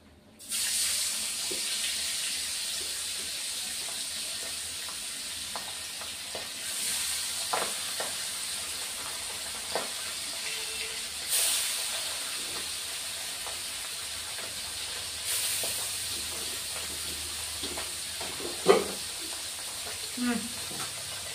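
Steady hissing sizzle of pabda fish frying in hot oil runs throughout, with occasional pops and clinks over the crackle; a voice speaks briefly.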